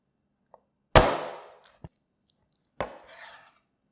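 A cleaver chops a raw chicken thigh in half on a board: one loud, sharp chop with a brief crunching tail, a small knock after it, then a second, softer chop with scraping, all close and alone.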